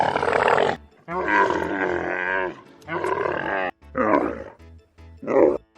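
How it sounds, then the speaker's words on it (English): A camel lets out a series of loud, rough, gurgling groans and bellows, several separate bursts broken by brief pauses, each harsh and throaty. "That's the sound of camel."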